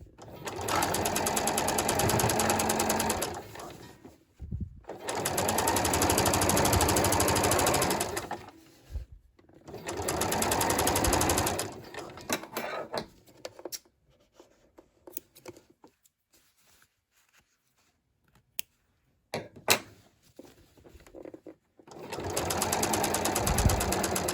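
A sewing machine stitches jeans in three long steady runs of rapid mechanical whirring, separated by quieter stretches of fabric handling and faint clicks.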